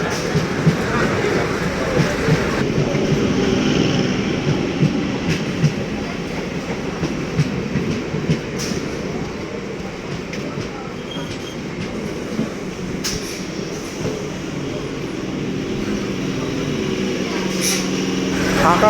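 An empty Arambagh–Howrah local passenger train bound for Serampore, a continuous rumbling roll with rhythmic wheel clatter and occasional metallic clanks heard from inside the carriage, with faint speech mixed in.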